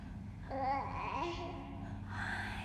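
A virtual-reality baby in a dystopian film babbles and coos in soft, rising and falling vocal bursts over quiet background tone, close and gentle.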